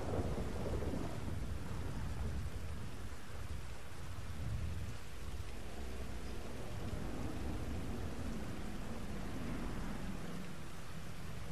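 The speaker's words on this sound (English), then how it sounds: "Another thunderstorm." A thunderstorm in the video game GTA 5 fills the scene with steady heavy rain and low rumbling thunder, a dense continuous wash of sound with no talking.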